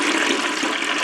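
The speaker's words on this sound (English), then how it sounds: "all you have to do is pour water up to the fill line there" Water pours steadily into the reservoir of a Kitchen Living countertop ice maker, a continuous close splashing stream lasting about a second with no talk.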